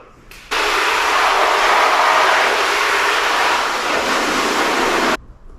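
A strong spray of water hoses down the fabric bagger bags from a Simplicity Regent lawn mower, a steady loud hiss that starts abruptly, holds for about four and a half seconds and cuts off.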